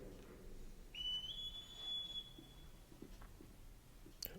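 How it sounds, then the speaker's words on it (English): Whistling heard during Star Trek: The Motion Picture, a single faint high sustained whistle lasting about two seconds, rising slightly then holding steady over a quiet ambient background. "Who's whistling?"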